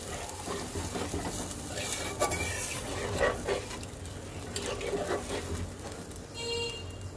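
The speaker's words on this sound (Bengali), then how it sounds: "এখন আমি এর মধ্যে দিয়ে দিলাম ঝোলের জন্য জল" Water added to a sizzling curry of taro and spices in a pan over high flame: a continuous frying hiss and bubbling with light stirring scrapes, steady and close, with no voices.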